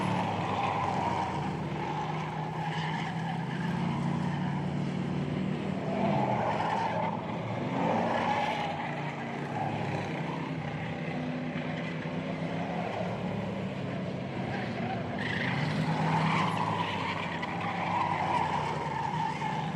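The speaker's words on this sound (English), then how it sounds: "Teammate is about a half a track behind him in the 76 machine of Heath the Butts." Race cars lapping Hudson Speedway in a steady continuous engine roar that swells and fades as cars pass, with tire noise and no voices.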